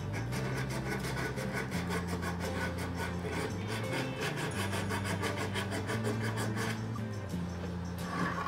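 The edge of a thrifted wooden farmhouse decor piece is sanded smooth and rounded, making a continuous close rasping rub with steady back-and-forth strokes and no speech.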